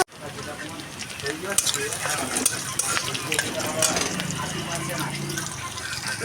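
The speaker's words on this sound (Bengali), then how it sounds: "পেঁয়াজগুলো আমি লাল লাল করে ভেজে নেব" Onions browning in hot oil with panch phoron in a kadai for mochar dalna, a steady crackling sizzle with stirring scrapes, close and moderately loud, while someone talks over it.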